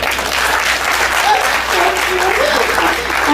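Steady, dense applause from an audience at a talk fills the whole stretch at a constant loud level, with faint voices drifting beneath the clapping.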